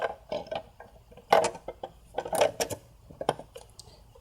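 A new plastic PCV valve is set into place on a VW/Audi 2.0T TSI engine, with a series of light plastic clicks and clacks, close and fairly quiet, scattered unevenly with no talking.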